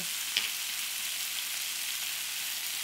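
Green peas frying in a pan with coriander powder, green chilies, salt and red chili powder for a Punjabi samosa filling, a faint, steady sizzle with one brief utensil tap near the start and no voices.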